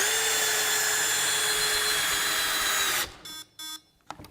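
A Metabo 18V impact drill driver runs with a steady high-pitched motor whine for about three seconds, then cuts out as the clutch slips at the set torque, leaving a few short ratcheting bursts.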